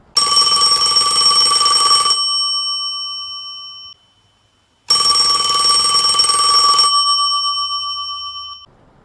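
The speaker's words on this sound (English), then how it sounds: "Casey reached for the ringing landline on the end table." A landline telephone on an end table rings twice, each ring a long, loud, bright metallic trill that fades out before a short silence, close and alone with no voices.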